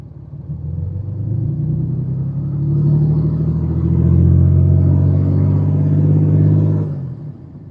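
A used diesel truck engine is revved up to about 2,000 RPM from idle, its deep rumble swelling and holding, then the throttle snaps off and the drone sinks smoothly back down, loud and close with no talk.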